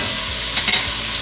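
Chunky onion pieces frying in a pan, a steady broad sizzle with a few brief scraping stirs near the middle, close and moderately loud, with no talking.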